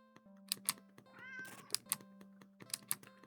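A standard black cat in a video game, found in a cardboard box at the end of an alley, meows a few times in short calls over soft background music.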